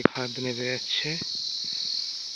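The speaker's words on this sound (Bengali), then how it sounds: "জায়গাটাতে পাহাড়ি ঝিঝি পোকার ডাক খুবই মনোরম ভাবে শোনা যাচ্ছে।" Hill crickets chirp in a steady, continuous high drone through a forested hillside, with someone speaking briefly at the start over the insect chorus.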